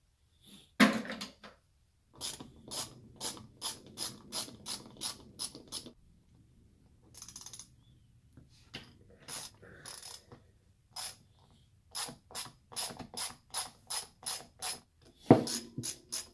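A ratchet wrench clicks in quick bursts while loosening bolts on an Iceomatic ice machine evaporator gearbox, with short pauses between runs of close, crisp ratcheting.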